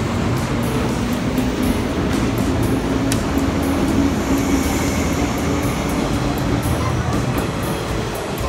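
A JR 185 series train pulls out of Ofuna station, a loud, steady rumble of wheels and motors close by that holds at an even level without speech.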